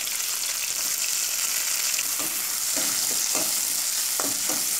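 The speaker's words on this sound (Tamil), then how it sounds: "வெங்காயம் வந்து பார்த்திங்கன்னா நல்லா வதங்கட்டும்" Shallots and green chilies sizzle steadily in hot oil for a country crab rasam, a continuous bright frying hiss broken by soft scraping stirs toward the end.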